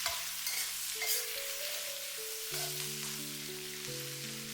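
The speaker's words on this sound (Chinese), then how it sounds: "开大火快速翻炒，把包菜梗的水汽炒干" Cabbage stems hiss and crackle steadily as they are stir-fried in a wok over high heat, a continuous bright sizzle with occasional scraping toss sounds beneath soft background music.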